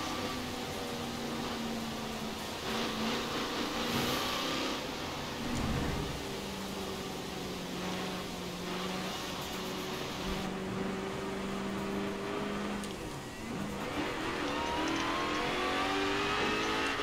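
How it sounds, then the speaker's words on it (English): Engine of a 1200-horsepower street car in Forza Horizon 4, droning and revving on the highway, with shifting pitch, an exhaust-like crackle mixed in, and moderate, continuous loudness. "Can you hear my backfire"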